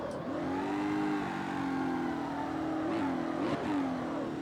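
A hot rod's engine strains uphill in the CarX Street racing game, a loud, steady mid-pitched drone that holds its pitch, then briefly rises and dips twice near the end. No one speaks.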